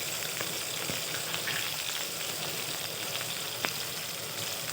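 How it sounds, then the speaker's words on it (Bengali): Fish roe frying in a pan with salt and turmeric, a steady, dense sizzle running throughout at close range, with a few faint clicks and pops scattered through it and no voices. "দেখুন মাছের ডিমটা খুব সুন্দর করে ছোটো ছোটো করে ভেজে নিয়েছি এভাবে"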